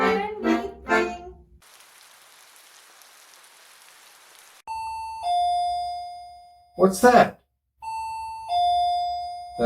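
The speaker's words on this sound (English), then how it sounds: "That's the doorbell." A two-tone doorbell chimes twice, clean and clear, with a voice speaking briefly between the rings and a burst of rain-like hiss earlier.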